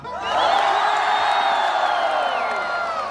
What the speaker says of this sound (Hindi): मैं देखता हूँ कितनी तालियां हैं आपकी।